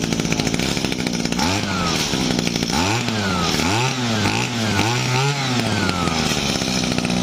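A small two-stroke engine on a used Japanese Robin Rabbit BR-19 brush cutter buzzes loudly up close, its revs repeatedly surging and dropping in quick rhythmic bursts.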